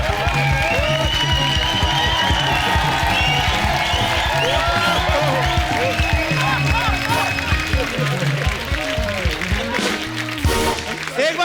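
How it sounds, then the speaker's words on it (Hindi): A studio audience at a comedy talk show applauds and cheers for a film's star cast, a loud, dense, continuous wash of clapping and crowd noise mixed with overlapping voices and music throughout. "एक बार जोरदार तालियां प्रस्थानम की पूरी स्टार कास्ट के लिए।"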